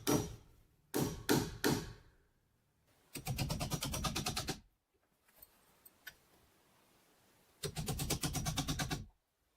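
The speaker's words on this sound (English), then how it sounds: "Standing directly on the skeletal frame, the builder hammers the final connections near the peak." Hammer blows fix the final connections near the peak of a log cabin roof frame. Three sharp separate strikes come first, then bursts of rapid repeated blows, with quiet gaps between them.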